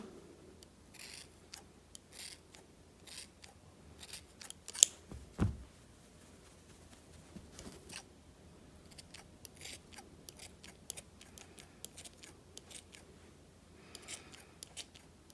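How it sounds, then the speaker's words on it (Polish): Scissors trimming a yarn pompom for a knitted hat: quiet, crisp snips at an irregular pace, some in quick clusters, close up against an otherwise hushed room. "więc bierzemy sobie nożyczki i go troszeczkę tutaj"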